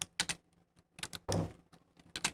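Keys on a computer keyboard clack in quick irregular bursts while Python code is typed, with one heavier thump like a spacebar or enter press, close and quiet with no talk.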